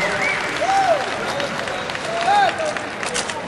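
Esports arena crowd applauding and cheering at a Counter-Strike 1.6 match between SK Gaming and mTw, a steady wash of clapping and cheers with a brief vocal swell, loud and close throughout.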